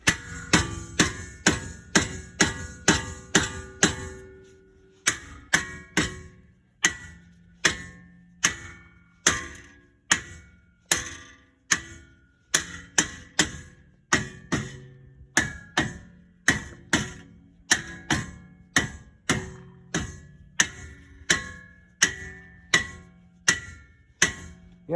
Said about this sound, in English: Yeah, start with the rubber mallet since it's closer